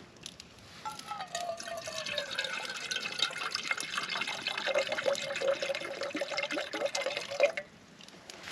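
Water pours steadily into a Jetboil Flash 2.0 pot outdoors on Stanage Edge in the Peak District, a close gurgling fill with a rising pitch, running for several seconds before cutting off.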